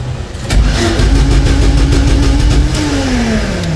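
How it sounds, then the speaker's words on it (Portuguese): A car engine cranks, catches and revs loudly in a garage, the pitch rising and falling steadily as it runs up close. "Eu quero ver se vocês vão conhecer qual é o carro e qual é a marca só pelo barulho do motor"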